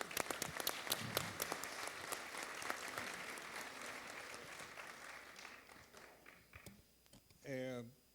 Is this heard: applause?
yes